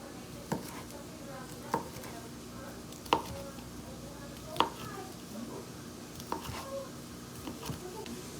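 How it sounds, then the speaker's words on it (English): A knife cuts Hillshire Farm sausage into bite-sized pieces on a board, with several sharp, evenly spaced chops standing out over a soft background hiss. "I think I'm gonna cut this up and put some bite-sized pieces in there"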